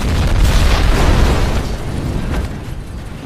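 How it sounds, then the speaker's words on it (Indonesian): A gasoline canister explodes in a room: a loud, booming blast with a deep rumble that rolls on and slowly fades, dense and close. "melempar korek api ke tabung bensin yang berada di ruangan itu dengan perhitungan yang matang hingga meledak"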